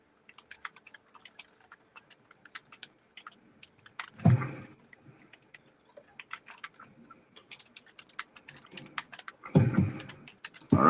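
Someone types on a computer keyboard nearby, steady light key clicks at an uneven pace with a couple of louder bursts of rapid keystrokes.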